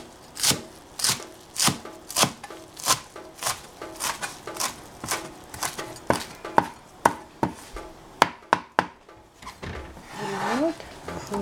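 A knife chops food on a board for a shrimp sauce, crisp rhythmic strikes repeating about every half second, with a quicker burst near the end and a brief voice after.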